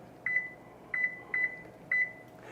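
An oven timer being set for candied bacon, giving four short electronic beeps at uneven intervals over a low kitchen hum, clear and close, no talking.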